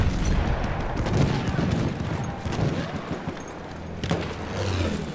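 Artillery fire and gunfire from the World War I shooter Battlefield 1 form a dense, continuous roar of explosions and rattling shots, with louder booms rising near the end and no clear talking.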